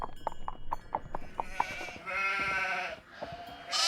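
Sheep in a Nancy Drew video game bleat in a rapid series of short nasal calls, then a longer drawn-out bleat, loud and close, with bright hiss-like sounds near the end.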